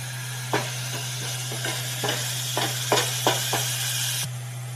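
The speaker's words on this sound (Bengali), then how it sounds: "পেঁয়াজটাকে ভালো করে তেলের সঙ্গে কষিয়ে নেব।" Onion sautéing in oil with two bay leaves for a village-style pumpkin and prawn curry, a steady close sizzle broken by several scraping spoon strokes and a constant low hum underneath.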